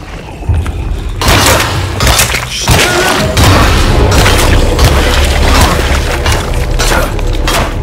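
Heavy hatchet blows land on an enemy in Alone in the Dark (2024), a run of loud booming, crunching impacts with shattering debris, close and dense, with no talk over them.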